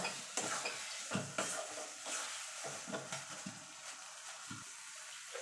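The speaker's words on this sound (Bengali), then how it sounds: "এবার দিয়ে দেবো চিংড়ি মাছটা যেটা ভেজে রেখেছিলাম, দিয়ে ভালো করে মিশিয়ে নেব।" Fried shrimp and taro leaves being stirred together in a pan, with repeated spatula scrapes over a low background sizzle, quiet and close, no talking.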